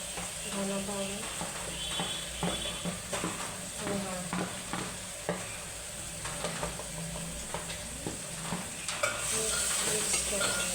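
Food frying in a pan as red chilli and coriander powder are stirred in, steady sizzle under repeated scraping stirs, with a brighter hiss swelling near the end.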